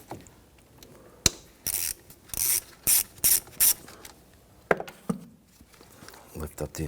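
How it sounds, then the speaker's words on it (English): Ratchet wrench with a 10mm socket working a car battery terminal nut on a 2011-2015 Kia Sorento 2.4L, heard as several short, loud bursts of clicking in quick succession, with brief mechanical clatter around them. "Use your 10mm socket."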